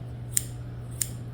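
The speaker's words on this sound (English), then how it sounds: "so I'm going to use the smaller scissors for, hang on. I'm just going to contour her ears." Small grooming scissors trim the fur on a dog's ear, giving two crisp, light metallic snips about half a second apart over a low steady hum, with no talking.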